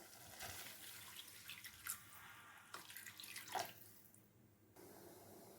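Water is poured into a pan of street-food-style mushroom fry with tomato sauce, a soft, close trickle and splash that rises and falls for a few seconds before stopping.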